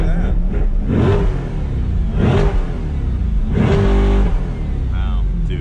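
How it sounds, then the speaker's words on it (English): A Chevrolet Corvette C8 mid-engine sports car revs loudly in three strong bursts, its engine rising and falling close to the microphone with a steady rumble in between. "Let me rev this thing up."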